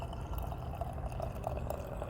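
Mead pouring steadily into a glass, a continuous soft liquid stream heard close up and fairly quiet, with no talking.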